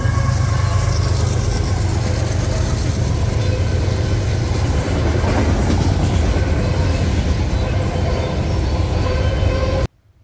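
CSX freight train M204 with locomotive CSX 1869 leading rumbles past close by, loud and steady with clattering wheels over rail joints, cutting off abruptly near the end.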